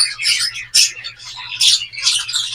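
An egg-bound pet bird gives sharp, high chirps and squawks in a quick burst of several calls while it is handled and treated by hand, close and fairly loud over a faint low hum.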